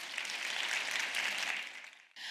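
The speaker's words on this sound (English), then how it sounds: "A round of applause for my panelists, please." A conference audience applauds the panelists at a business discussion, a broad even wash of clapping at moderate volume that swells, then tapers and fades out near the end.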